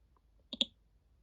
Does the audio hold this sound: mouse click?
yes